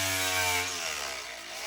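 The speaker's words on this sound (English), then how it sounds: "I cleaned it as much as I could safely with the" An angle grinder works rust off the steel floor of a Sprinter van, its high, loud whine running steadily and then easing slightly in pitch as the load changes.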